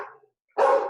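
Dogs bark once, sharp and fairly close, after a short fading yip; the sounds are brief and loud with a silent gap between them.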